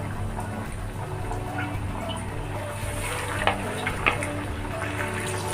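Heart-shaped chicken nuggets frying in hot oil give a steady, close sizzle with light crackling pops that runs continuously throughout.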